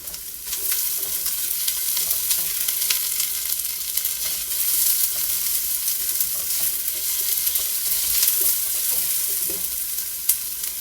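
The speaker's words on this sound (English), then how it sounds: "So the first thing that I'm going to do is I'm going to brown the onions." Chopped onions browning in a pan make a continuous, close, even sizzle with light stirring scrapes throughout, no voices present.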